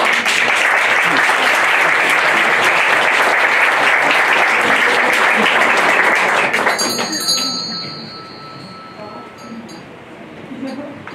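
Theatre audience at an amateur Czech stage play claps in a dense, loud, sustained burst, then the clapping thins and fades toward the end with a few scattered claps and faint voices.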